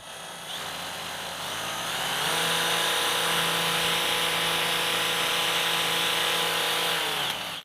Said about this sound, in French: Celle-ci est déjà une perceuse beaucoup plus grande.